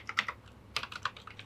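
Fingers type a password on a computer keyboard: a quick, uneven string of light clicks in two short clusters with a brief pause between, close and quiet, with no voices.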